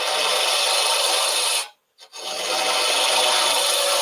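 A turning tool takes a big cut into dry wood spinning on a lathe, giving a loud, continuous broadband rasping roar that drops out briefly for a moment before resuming just as strongly.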